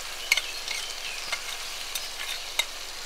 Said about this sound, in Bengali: এবার এই মশলাগুলো দিয়ে কষাবো।